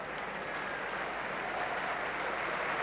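A cricket crowd at the SCG applauds a batsman's half-century, a steady, even wash of clapping from a large stadium audience, continuous throughout.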